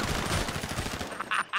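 Rapid bursts of video-game gunfire during a GTA roleplay Squid Games event, a quick clattering volley with a couple of sharper shots at the close.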